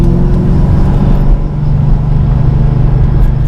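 A slow car with a two-valve engine drives along, its loud, steady low rumble holding close and even throughout with a slight dip midway, and no one talking.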